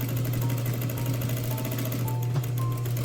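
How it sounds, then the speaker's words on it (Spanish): An electric sewing machine runs continuously with a steady, close mechanical hum and rapid needle rhythm while stitching along the facing of a tailored welt pocket. "coses a la orilla de la vista por donde pasaste la costura anteriormente"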